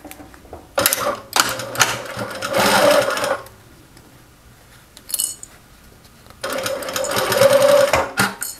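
Sewing machine stitching a seam with 1 cm allowance on a small fabric phone pouch, close whirring bursts of stitching separated by a quiet pause, no talk.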